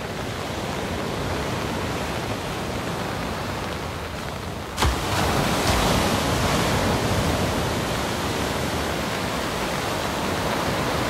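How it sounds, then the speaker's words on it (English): Ocean waves at Cottesloe Beach on Australia's west coast on a rainy day make a broad, steady roar of surf, with a louder crash of breaking water partway through and no voices. "Hope you can hear the sound of the waves okay."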